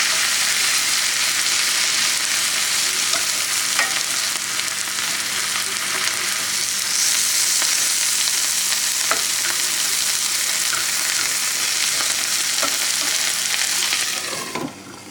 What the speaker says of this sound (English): So we'll stir some of those milkweed in there.